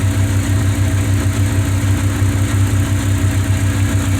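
A Hyundai car engine idles steadily and close by, a low continuous rumble with a faint rhythmic pulse and no voices.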